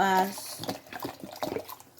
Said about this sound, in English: we are going to pour some, we're gonna add some chicken broth